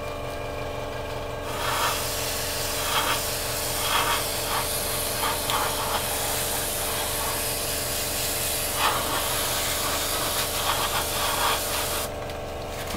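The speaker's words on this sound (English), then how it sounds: "we just flick the compressor on" An air compressor feeding an airbrush, used to paint an Academy 1/48 SU-27UB Flanker model, hisses steadily after a brief quiet start, a continuous close rushing sound with faint rubbing texture that stops abruptly near the end.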